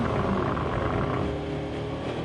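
Car exhaust rumbling steadily from inside the cabin, a continuous low, rough drone with broadband noise, close and fairly loud throughout, no talking.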